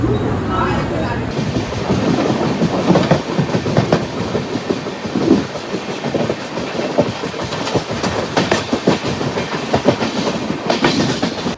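Continuous rumble and rhythmic clatter of the Ranakpur Express running on rails near Andheri, Mumbai, heard from an AC two-tier coach, loud and close, with people talking faintly in the background.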